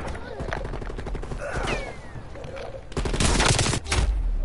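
Gunfire in Call of Duty: Cold War multiplayer, a few scattered distant shots early on, then a loud close burst of rapid automatic fire with a brief break partway through, over faint background game sounds.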